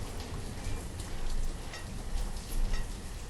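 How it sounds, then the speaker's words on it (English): Steady rain falls in the city-building game Banished, a dense, even hiss of drops that swells slightly in places, with no voices. "It's rainy."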